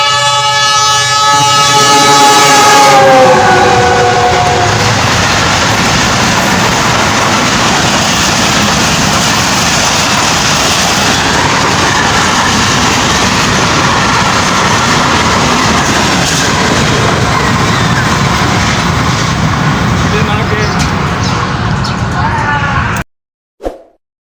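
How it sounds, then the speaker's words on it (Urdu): Pakistan Express train in Multan passing at high speed, a loud continuous roar and rattle of cars rushing close by after an opening horn, the noise holding steady before cutting off abruptly at the end. "کتنا تیز رہی پاکستان ایکسپریس"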